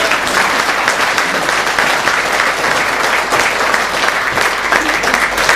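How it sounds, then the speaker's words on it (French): Audience applauding a stage play, a loud, dense, steady wash of clapping hands that carries on without pause and without voices. "On l'applaudit bien fort"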